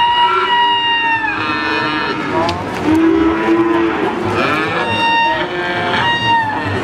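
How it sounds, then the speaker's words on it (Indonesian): Limousin cattle moo repeatedly at a busy cattle market, drawn-out calls overlapping one another over a steady crowd murmur and background chatter. "Ada sapi limusin."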